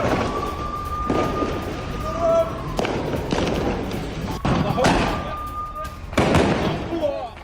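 Sharp gunshot bangs crack at irregular intervals during a gunfight in the Israel-Palestine war, over a noisy background, with a reporter-style voice talking throughout.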